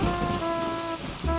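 Steady rain falls as a dense, even hiss of drops on surfaces, continuous and fairly loud with no voices.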